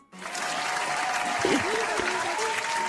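A round of applause bursts in and holds as a loud, dense wash of many hands clapping, with a voice speaking faintly underneath.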